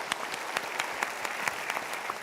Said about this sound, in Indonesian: Kita berikan tepuk tangan dulu untuk dia.